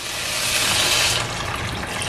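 Water, 375 ml, is poured steadily into a cooking mixture for a coconut milk lunch dish, making a continuous close splashing rush that stays loud throughout with no talk.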